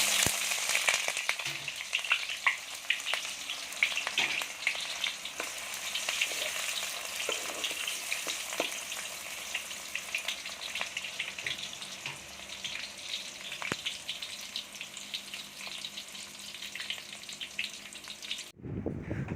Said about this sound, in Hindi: सबसे पहले हमने कढ़ाई के अंदर ऑयल को गर्म कर लेना है और इसके अंदर हम प्याज ऐड करेंगे।